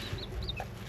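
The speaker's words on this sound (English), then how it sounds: "I'll show you the chicks one more time" Chickens make a brief, close flurry of soft clucks and chirps, lasting under a second.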